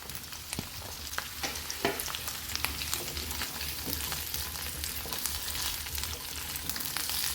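Cauliflower florets and carrot stir-frying on high heat for Chinese-style vegetable noodles, a continuous close sizzle with frequent crisp clatters and scrapes of tossing and stirring, and no talk.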